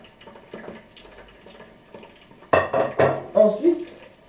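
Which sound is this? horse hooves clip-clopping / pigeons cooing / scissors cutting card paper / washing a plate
washing a plate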